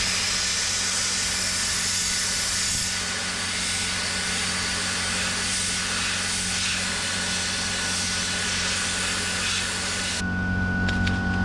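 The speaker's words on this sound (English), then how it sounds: "The compressor's trying to keep up, but it hasn't got that much capacity." An air compressor labours steadily during DIY sandblasting of a Mk2 Fiesta's door locks and handles outdoors, a constant loud broadband hiss and rumble that holds throughout with a brief shift in tone near the end.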